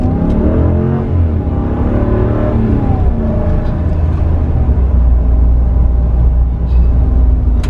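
A 2019 RAM 2500 Tradesman pickup with a 6.4L HEMI V8 accelerating hard on a two-lane road, its engine a loud, steady, close roar that climbs through the gears with no talking over it.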